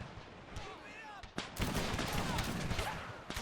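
Musket volley fire in the Men of War Assault Squad video game during a siege of a British fort: dense, overlapping gunshots and booming artillery crackle continuously in a loud battle din.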